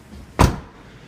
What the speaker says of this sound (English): Now at this point you can close the doors again for a little while,